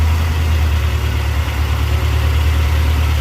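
A Chevy 454 Vortec 7.4L V8 idles at about 1000 RPM, a loud, steady low rumble with an even throb throughout and no talking.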